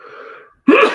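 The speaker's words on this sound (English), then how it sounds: "I'm going to sneeze." A man's sneeze bursts out loud and close at the end of a quiet moment in a yoga class, after a soft breathy lead-in and a brief silence.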